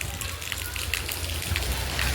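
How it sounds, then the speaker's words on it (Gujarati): Rain pours down in a steady, close, even wash of hiss with a low rumbling undertone, heard alone without any talking. "વરસાદ આવી રહ્યો છે।"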